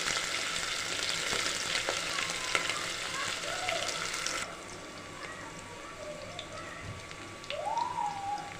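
Onions and green chillies frying in oil with whole spices, a continuous close sizzle that drops quieter midway, with faint clinks and background sounds over the hiss.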